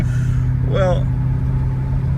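A 1979 Lincoln Continental Mark V, 170 horsepower and about 5,000 pounds, is held at full throttle with a steady, droning engine hum from inside the cabin while someone talks briefly over it.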